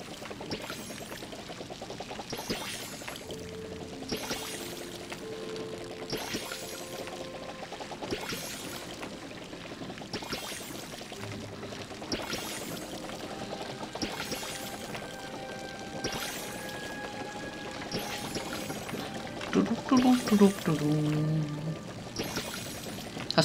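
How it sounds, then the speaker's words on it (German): Crops being watered in the video game Palia: soft, repeated watering-can pours in short bursts, faint and steady, with a few brighter splashes near the end. "dann mal kurz noch schnell gießen"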